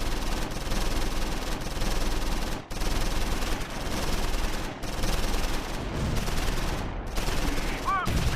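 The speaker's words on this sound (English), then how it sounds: "First platoon now opens up on the advancing German infantry" Sustained infantry gunfire in the Close Combat 4 World War II game, Battle of the Bulge at the Siegfried Line, 1944: dense, continuous rifle and machine-gun fusillade, loud and unbroken, with a couple of brief gaps.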